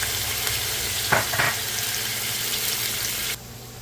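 Onion, pepper, garlic, thyme, hot pepper and celery cooking in a pot of fish stew, giving a steady close sizzle with a couple of brief clinks of stirring before the sound drops away.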